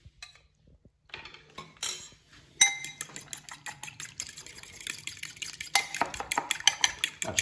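Egg and milk are whisked in a bowl, starting with a few scattered clinks and taps, then settling into a quick, close, rhythmic run of utensil strokes scraping and clicking against the bowl.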